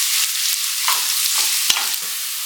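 Onions with curry leaves sizzle in a pan, a steady broadband frying hiss with a few soft clicks of stirring, close and alone with no talking.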